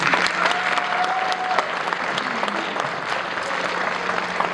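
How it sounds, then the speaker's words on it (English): An audience at a high school talent show applauds steadily with dense, even clapping that fills the room for several seconds, with no one speaking. "So please give them a round of applause."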